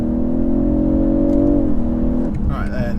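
A BMW 840i Gran Coupe in Sport Plus mode pulls with a steady, close engine hum that eases and then shifts pitch, with someone talking over it.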